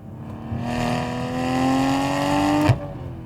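A 2020 Toyota Supra's engine and exhaust pull hard under acceleration, the pitch climbing steadily in one loud, close-miked run before a sharp shift blip near the end, heard from inside the car.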